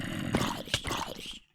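A Minecraft zombie groans from inside a building's roof in the video game, one low, rough, drawn-out moan lasting about a second and a half before it cuts off.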